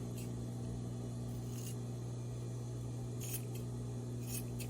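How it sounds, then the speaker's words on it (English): Scissors trim the sewn corners of a fabric romper, giving a few brief, quiet snips over a steady low background hum. "Now, we need to just trim these corners here."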